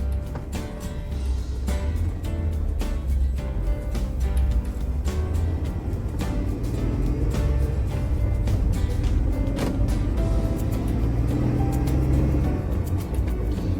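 Low-geared Jeep Wrangler towing a heavy trailer along the Lake Superior shore of the Keweenaw, a steady close engine and road rumble from inside the cabin, punctuated by frequent sharp clicks and rattles.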